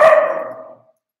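A puppy gives a single sharp bark close by that trails off into a short whine, loud and alone.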